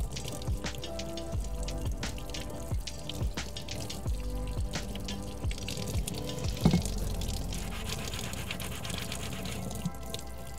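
Water running and splashing over a freshly forged, oil-quenched kukri blade in a forge shop, with irregular drips, clinks and trickling at close range, no talking.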